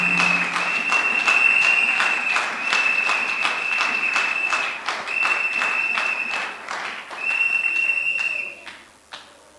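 A church congregation bursts into sustained, loud applause and cheering that fills the room steadily and then tapers off near the end.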